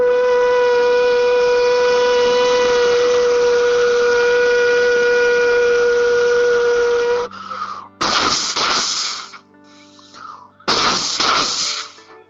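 An old steam railway engine whistle blows one long, steady, piercing blast for several seconds, then gives two shorter, harsher bursts of hissing steam with a quieter blast between them.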